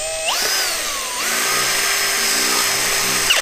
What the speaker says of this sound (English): near the top, I'm just drilling a hole big enough for an airline to go through